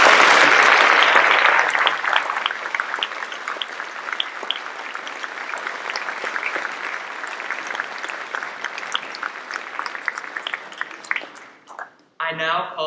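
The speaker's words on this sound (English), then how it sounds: "please give a round of applause" Applause from an audience at a 2023 world language awards ceremony: loud clapping that starts strong, settles into a steady patter for about ten seconds, then dies away into brief sounds at the end.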